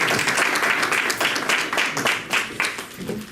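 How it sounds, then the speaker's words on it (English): An audience at a Black History celebration in a bookshop applauds: a steady patter of many hands clapping for a few seconds at moderate loudness. "Let's give another round of applause."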